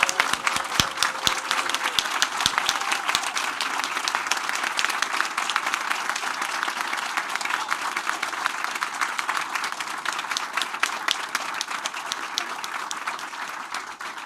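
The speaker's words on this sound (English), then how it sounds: "please stand for one final round of applause" A roomful of people at a state board of education meeting gives a standing round of applause for teachers, a dense, steady clapping that carries on evenly and tapers slightly at the end.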